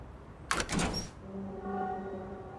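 A door swings open in the Lost Judgment video game with a short, sharp creak-and-clunk lasting about half a second, set against a quiet, faintly humming room.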